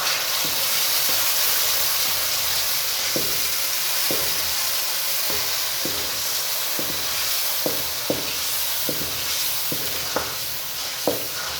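A little water is poured into sizzling masala in a pan for aloo matar, giving a steady hissing sizzle with a series of sharp spoon taps and scrapes against the pan.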